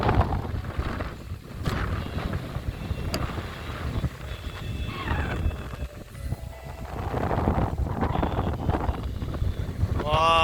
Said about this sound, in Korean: 이야, 이 바람, 바람 소리 들리죠?